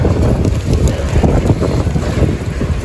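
Strong outdoor wind on a gusty day buffets the microphone with a loud, continuous low roar that rises and falls, and no voices are heard.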